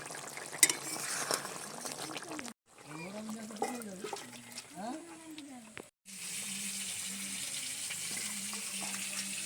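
A spoon stirs spicy Bengali nihare fish curry in a pan after a pinch of garam masala is added, with scraping and sizzling textures, broken by a voice speaking intermittently nearby.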